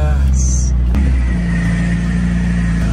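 A car engine rumbles steadily at close range as the vehicle pulls into a garage after nearly breaking down, with a brief high whine near the start and a sharp knock around the one-second mark.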